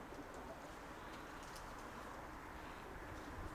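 Soft, low pigeon coos drift through steady background hiss, faint and somewhat distant.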